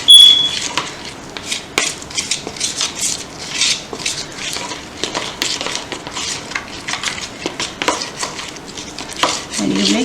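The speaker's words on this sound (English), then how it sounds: "And then we give it another mixing and see what happens after that too." Scraping and mixing melted old cosmetics in a small container to make lipstick, with steady clinking and scraping strokes that repeat over ten seconds, close and moderately loud.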